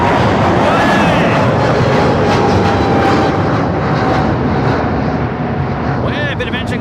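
A FedEx jet roars on departure from Sydney Airport, its loud broadband engine noise filling the air continuously as it climbs away, with people talking and cheering over it.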